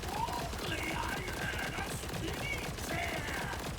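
Rapid, sustained automatic fire from an Order assault rifle in Borderlands 4, a dense stream of shots running unbroken for about four seconds with ringing synthetic game tones layered over it.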